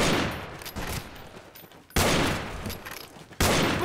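Gunfire in the Western multiplayer shooter Fistful of Frags: dense, loud bursts of shots and reports in a fast fusillade, with two sharp volleys striking abruptly partway through.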